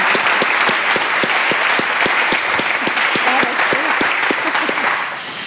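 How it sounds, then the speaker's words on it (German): Conference audience applauding steadily and loudly throughout, dense clapping with a few sharp near claps standing out, fading slightly at the end. "Vielen Dank, großen Applaus an Stefanie."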